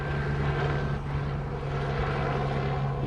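An airliner climbing out and banking right on departure from Honolulu, a steady loud engine roar with a constant low tonal hum and no talk.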